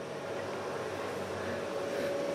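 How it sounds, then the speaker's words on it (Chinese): Two camping fridge compressors, one an imported LG unit and one Chinese-made, run together as a steady low mechanical hum with a constant tonal drone, moderately quiet and continuous. "那现在两边的压缩机都已经在打了"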